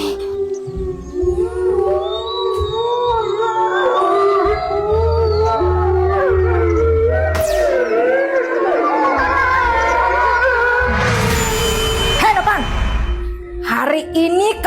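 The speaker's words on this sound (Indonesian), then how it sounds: "Kok kayak ada yang melolong tuh" Long, wavering animal howls rise and fall through a dark, layered scene, several voices overlapping against a low drone, with a burst of noise near the end.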